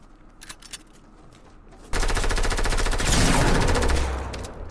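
Gunfire in a Fortnite Battle Royale match: a few scattered shots, then loud, sustained rapid automatic bursts that run without a break to the end.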